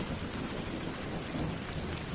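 Steady, dense rain pours down with a low continuous rumble of thunder beneath it, a cartoon-style storm effect on a rainy night, loud and unbroken with no voices.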